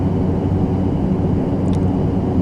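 ATR 72 turboprop engines at takeoff power in the FSX flight simulator, a loud, steady, broadband drone that holds unchanged throughout.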